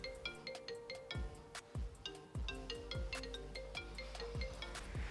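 An incoming call's phone ringtone plays a repeating melodic pattern of bright tones with a regular rhythm, sounding fairly faint and alone without any speech.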